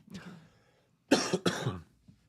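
Two sharp coughs in quick succession, close and fairly loud, after a brief throat sound.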